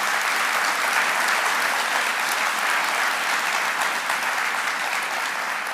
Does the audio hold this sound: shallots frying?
no